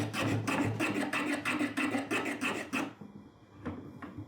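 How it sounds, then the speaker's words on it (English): The sole of a Japanese hand plane is shaved with quick back-and-forth scraping strokes, about ten rhythmic rasps up close, then a pause and two fainter strokes near the end. "Next, shave the area between points C and D."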